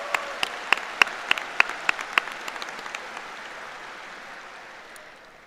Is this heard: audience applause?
yes